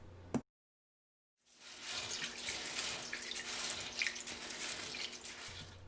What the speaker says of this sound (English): First we have to wash the tapioca pearls in water a couple of times.